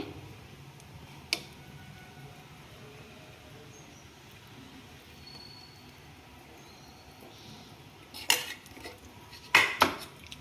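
A small bowl is set on a stove to heat ghee, producing a few sharp metallic clinks and clatters, one early and two clusters near the end, against a quiet kitchen background.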